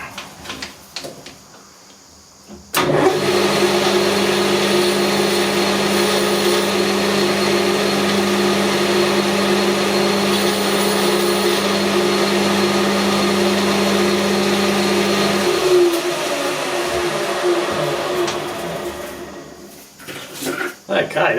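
A machine runs steadily with a loud hum and a high whine while a metal part is deburred on it. The noise starts abruptly, holds for about twelve seconds, then winds down, with quiet handling sounds before and after.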